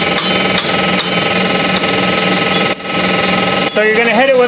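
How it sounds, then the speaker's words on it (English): A punch is hammered against a rusted axle seized in the wheel hub of an Equinox during a rear wheel bearing job, giving several sharp metallic strikes spaced irregularly over constant loud workshop noise, with a ringing squeal near the end. "So you're gonna hit it with a punch"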